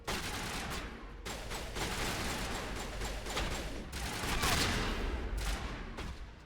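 Dense, continuous gunfire from the player's guns in a video game, a steady rattle of rapid bursts that stays loud throughout, with faint speech underneath.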